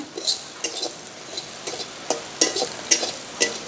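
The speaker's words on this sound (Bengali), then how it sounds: "এই দেখুন চিংড়ি মাছটা আমরা ভেজে নিচ্ছি" Prawns frying in hot oil in a pan while a Bengali potol dorma is prepared, giving soft sizzling crackle with a string of sharp spattering pops and the odd stir, moderately close with no talk.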